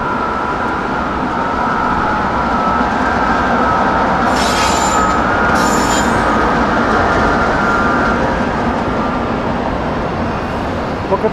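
A Union Pacific train rolls past loudly and close by in high wind, a continuous heavy rumble of wheels on rail with brief high-pitched wheel squeals in the middle.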